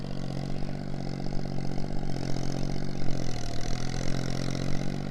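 A motorcycle engine with a titanium and 304 stainless steel exhaust idles with a steady, deep, throbbing exhaust note, slightly rising and falling as it runs without talk.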